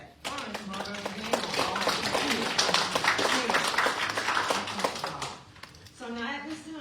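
A crowd at a City of Mulberry commission meeting breaks into steady, lively applause for several seconds, with a voice speaking just before and after the clapping.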